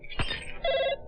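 A brief telephone ring sounds twice in quick succession, a bright electronic tone close by, preceded by a short thump.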